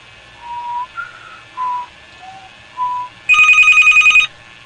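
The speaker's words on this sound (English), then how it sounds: "So the phone is ringing." An electronic telephone ring trills in one short burst of rapid pulses, following a few scattered whistled notes, fairly loud and close, heard through a phone phreaking beige box.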